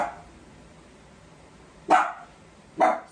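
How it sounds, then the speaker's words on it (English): Guard dogs bark from a distance in a home kitchen, two sharp barks spaced about a second apart over quiet room noise. "My guard dogs are at it again."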